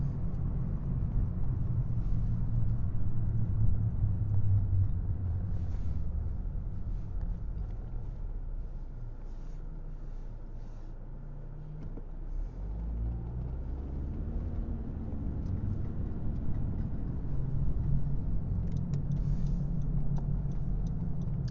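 A car cruising on a Sunday morning in St. Louis, a steady low engine and road rumble heard from inside the cabin with faint ticking, continuous and unbroken.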